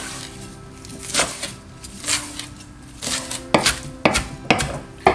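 Knife chopping mixed baby greens (spring mix) on a cutting board, with irregular knife strikes that come closer together and grow sharper toward the end.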